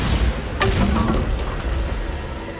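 The Bombarda spell explodes in Hogwarts Legacy on PC with a loud, deep boom and a sharp crack near the start, followed by a rumbling decay that fades over a couple of seconds.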